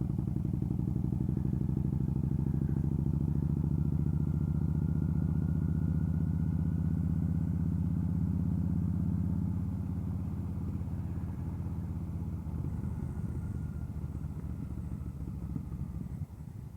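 A motorcycle engine runs steadily throughout, a loud, close, continuous low rumble that eases slightly toward the end, with no voices.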